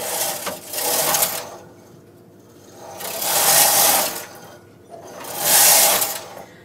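Knitting machine carriage pushed across the bed knitting rows of broom stick lace, three loud swelling passes of whirring, clattering rasp separated by brief quieter pauses, close by with no speech.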